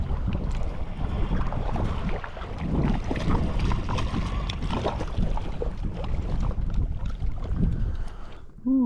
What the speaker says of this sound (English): dadgum wind started picking up again